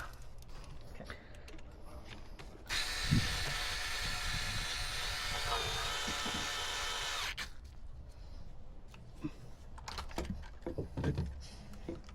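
An oil filter is tightened on a Sea-Doo watercraft: a steady whirring, grinding burst of about four and a half seconds, with quieter clicks and handling clatter before and after, close to the listener.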